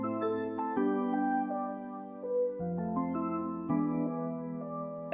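Ambient space piano patch from Omnisphere playing sustained chords with a low bass line and a lead melody on top, a quiet sparkly layer an octave up, steady and alone without any voices.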